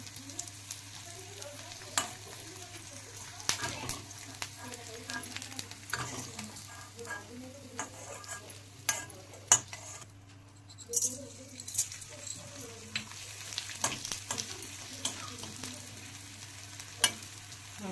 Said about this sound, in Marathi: तर आता मी डिंक तळताना थोडं थोडं घालून घेणार आहे, म्हणजे चांगला फुलून येतं।